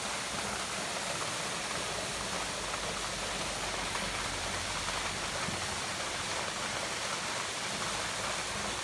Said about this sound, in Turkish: Şöyle güzel bir şelalemiz var.